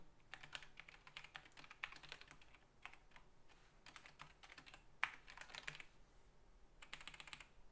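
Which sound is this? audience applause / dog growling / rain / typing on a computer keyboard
typing on a computer keyboard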